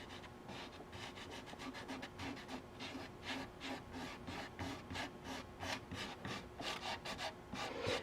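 Sawdust is rubbed by hand into a crack in a maple bowl, producing quiet, close, rhythmic scratchy strokes repeating steadily back and forth.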